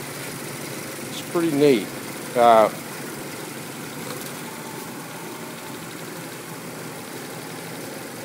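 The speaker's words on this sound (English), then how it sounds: "this is the engine. Very smooth running." A Toyota 3SGE Blacktop engine fitted in a Triumph TR3A, running without antifreeze and idling smoothly: a steady low drone throughout, with someone briefly speaking over it.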